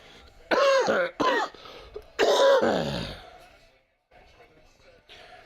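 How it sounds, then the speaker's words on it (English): Two close, harsh bouts of coughing in quick succession, raspy and throaty, then fading into quiet breathing and faint rustling. "I'm trying my best to get rid of this cough here"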